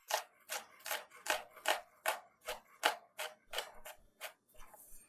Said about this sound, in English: Then you can mince your garlic. Same thing applies. Knife on the board, small slices.